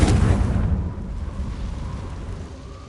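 A Confringo fire spell in Hogwarts Legacy goes off in a single loud, close, booming blast that fades into a rumbling tail, with no talking.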